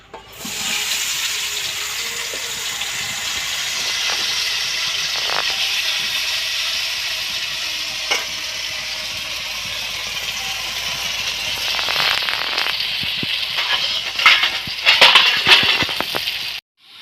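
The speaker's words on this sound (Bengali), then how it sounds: "আমি বেগুনটা ভেজে নিই" Eggplant frying in oil over a smoky clay stove, a steady broad sizzle running throughout with a few clatters and a louder burst of crackling near the end.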